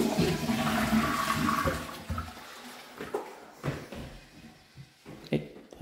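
A toilet flushes in a hidden bathroom of a property for sale in Alanya, Turkey. It starts with a loud, steady rush of water, then fades into gurgles and a few knocks and clunks. No one speaks over it.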